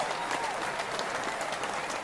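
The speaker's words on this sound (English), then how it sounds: "There's your standing ovation." A studio audience gives a standing ovation, with steady, dense clapping and some crowd noise continuing evenly throughout at moderate loudness.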